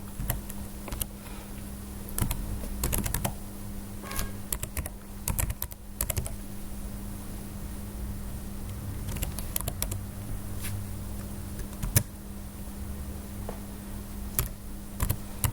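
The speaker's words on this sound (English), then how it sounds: "when you type the email address, let's say I'll type mine" Someone types an email address on a computer keyboard, giving rapid, irregular clusters of close key clicks with brief pauses over a low steady hum, no speech.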